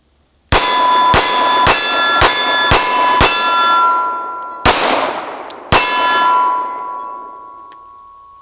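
Glock 17 pistol shots strike a steel target, eight sharp clangs with long metallic ringing, six in quick even succession, then two more after short pauses, the last ring fading out.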